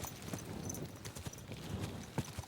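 Horses' hooves clip-clop in a medieval countryside in Kingdom Come Deliverance 2, a steady uneven patter of hoofbeats at moderate distance with a sharper thud near the end, no talking.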